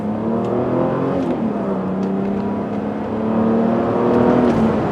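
A black 1994 Mercedes-Benz E320 accelerating to 60 mph on a highway, heard from inside the cabin as a steady engine hum with smoothly rising pitch through gear changes, growing slightly louder toward the end.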